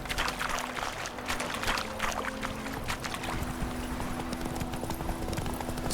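A horse gallops in The Witcher 3 video game. Steady clip-clop hoofbeats run the whole time over a continuous outdoor ambience.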